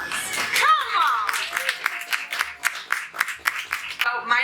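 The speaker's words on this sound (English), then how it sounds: "Give yourselves a big round of applause" Birthday party audience claps and applauds in a crowded room, steady dense patter of hands throughout with a few cheers, fairly close and loud.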